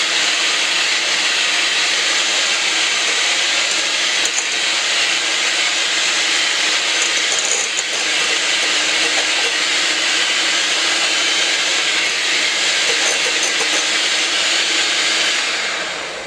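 Hand mixer whipping heavy cream in a bowl, a continuous close whirring motor hum with a steady whisking wash, loud and unbroken throughout.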